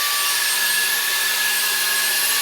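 A miter saw trims the corners of a wooden poster frame, giving a steady, loud, close whine with an even tone that holds for about two seconds and then cuts off abruptly.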